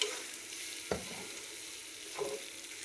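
Prawns being stirred in a hot pan with a spoonful of chili powder, a soft continuous sizzle broken by two distinct scraping stir strokes, close and fairly quiet with no talking.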